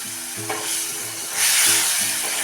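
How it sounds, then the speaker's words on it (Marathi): Tamarind pulp and jaggery frying in hot oil in a pan for a dal dish, with a steady close sizzle that swells into a louder hiss partway through, plus a few soft stirring scrapes and no voices. "चिंच गुळ असलेली गूळ परतून विरघळून घेऊया तेलात"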